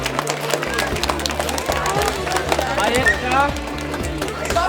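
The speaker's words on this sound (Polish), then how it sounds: "Zróbcie Wielkie brawa dla Maji" Audience applause at an Easter children's event as a girl named Maja is called up, moderate clapping and crowd murmur running steadily beneath background music with a low rhythmic beat.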